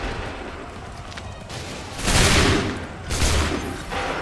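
Musket volleys in Assassin's Creed III, heard as two loud, broad bursts of massed firing about a second apart over rumbling battle ambience, with no speech.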